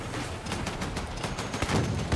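Rapid, dense gunfire in a Battlefield 6 multiplayer match, sharp overlapping shots crackling almost continuously and loud for two seconds, with no voices.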